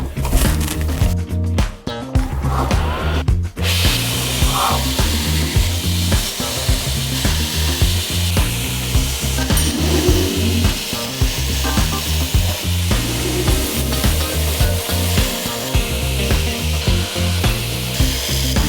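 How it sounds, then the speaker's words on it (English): Belt grinder shaping the bevels of a San Mai steel knife blade: loud, continuous abrasive roar with harsh grinding texture, broken by a couple of brief pauses near the start, then steady to the end. "onto grinding now"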